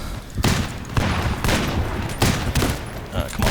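Gunfire in the video game Lead and Gold, rapid repeated shots in several dense bursts, loud and close, with game noise continuing between them.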